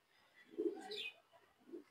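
A pigeon in a loft gives a short, soft coo, quiet and close, followed by a fainter second murmur.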